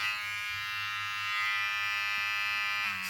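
A steady high-pitched buzzing whine of an electric hair trimmer running continuously, close and fairly harsh, with no speech.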